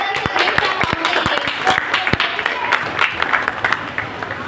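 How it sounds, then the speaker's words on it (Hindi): An audience at an indoor event applauds in a burst of close, sharp hand claps that thins into scattered clapping, with voices murmuring underneath. "आपकी तालियां भी होनी चाहिए साथ में"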